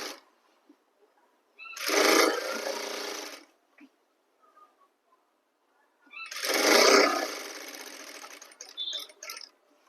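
A sewing machine stitching a suit runs in two bursts of steady, fast whirring, each a few seconds long and close by, separated by quiet pauses and a few light clicks.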